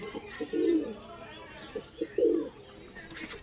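Two short bursts of soft cooing from Murshidabadi Giribaz flying pigeons, a second or so apart, fairly near, over a quiet background hum.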